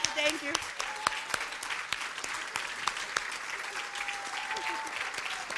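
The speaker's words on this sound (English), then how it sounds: "Standing applause." A standing church congregation applauds, with steady, dense clapping that fills the room throughout, along with a few cheers and voices mixed in.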